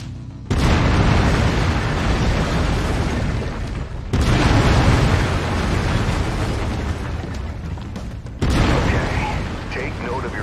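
Heavy autocannon fire from a mech in the video game MechWarrior 5, three long booming bursts of rapid shots, each roaring for several seconds with brief pauses between, loud and close.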